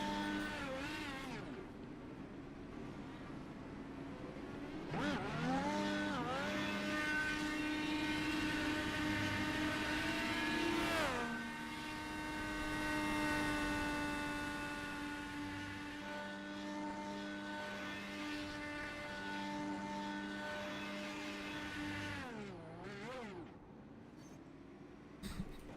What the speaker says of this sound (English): Rambler getting pretty good at these donuts and burnouts here in the IndyCar.